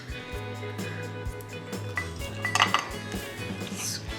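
Lemons go into a handheld squeezer for juice in a home kitchen, heard as a few close metallic clinks and knocks of the squeezer and utensils against a bowl over low background hum, with no talk.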